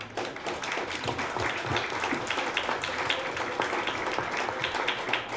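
Audience applause for an interpreter at a public consultation with people with disabilities and Down syndrome, a steady spread of many hands clapping at moderate distance, even and sustained throughout.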